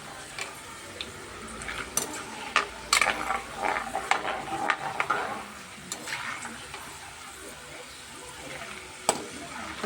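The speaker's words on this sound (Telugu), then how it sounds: "వేసిన గుళ్ళు కూడా చక్కగా ఫ్రై అయిపోయినాయి" Dough balls for a homemade snack fry in hot oil with a steady low sizzle, broken by occasional bubbling pops and light clicks of stirring, close by with no talking.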